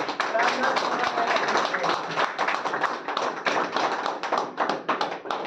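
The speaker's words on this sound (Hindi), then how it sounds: "लो सर, जोरदार तालियां नीतीश सर के लिए।" Audience claps loudly and steadily for Nitish at a corporate target-achievement celebration, dense overlapping hand claps filling the room throughout, with cheering voices mixed in.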